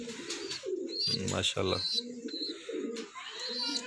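Pigeons coo in a low, repeated murmur at a pigeon loft during the monsoon breeding season, with chirps above and someone speaking briefly over them.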